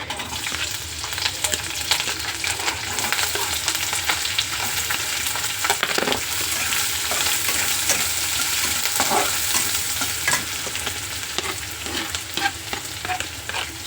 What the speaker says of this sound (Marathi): आता त्याच्यामध्ये कांदा घातला आहे, मिरची घातली हिरवी